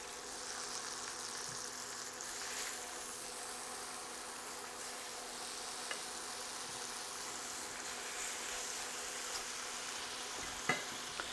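Pork chops sizzling on a grill, a steady quiet hiss of fat crackling throughout, with occasional soft pops and a sharper snap near the end, no voices.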